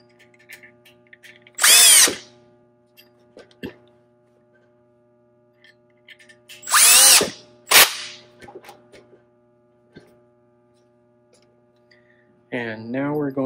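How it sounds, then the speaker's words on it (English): A power tool tightens bolts on a valVario modular part in two whirring bursts of about a second each, followed by a brief second run, loud and close with quiet gaps between. "put them in these holes here, and you're going to tighten them down"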